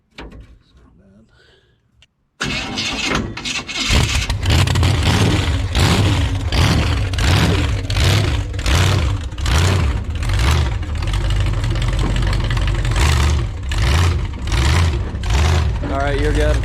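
A vehicle engine running after a throttle cable repair: quiet at first, then the engine catches and runs loud and close with a steady, rhythmic pulsing beat, while people talk nearby.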